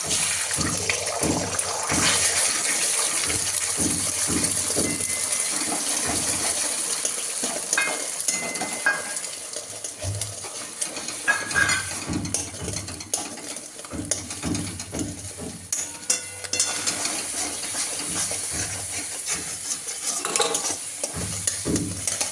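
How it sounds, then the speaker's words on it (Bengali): Eggs sizzle in hot oil in a kadai (wok) with a constant crackling hiss, punctuated by rhythmic scraping and stirring strokes from a utensil against the pan. "আমি এবার ডিমগুলোকে তেলে দিয়ে ভেজে নেব"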